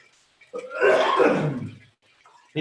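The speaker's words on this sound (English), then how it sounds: "Sorry for the coughing." One rough, throaty cough burst close to the mic, followed by quiet.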